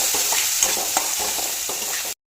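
A spoon stirs salt, chilli, turmeric and garam masala into cucumber sabji in a sizzling pan, with steady frying hiss and a few soft scraping clicks, close and alone, ending abruptly.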